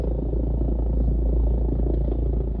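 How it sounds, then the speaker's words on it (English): A deep, steady emergency-room helicopter rumble fills the air overhead, loud and continuous with a faint rhythmic beating from the rotors. "it's the emergency room helicopter"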